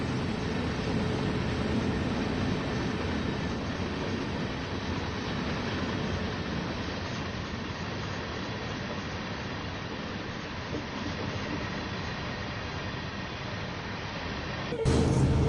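Long simulated BNSF freight train with four locomotives on Cajon Pass in Train Sim World 5, a steady loud rumble of engines and rolling cars holding evenly throughout, with a brief sharp burst near the end.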